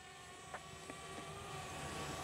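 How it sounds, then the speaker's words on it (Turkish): A DJI Spark drone flies backwards, giving a faint, steady, high-pitched motor whine that holds an even level throughout with no talk. "drone görmüş olduğunuz gibi geriye doğru gidiyor"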